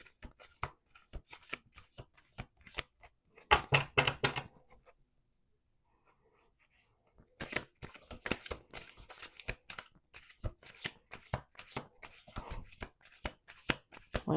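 Cards are shuffled in rapid riffling bursts, a brief pause of quiet, then more rapid shuffling clicks.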